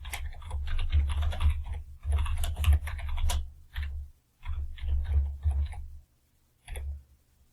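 Close, steady typing on a computer keyboard while entering VBA code comes in quick bursts of crisp key clicks with short pauses between them, and no voices over it.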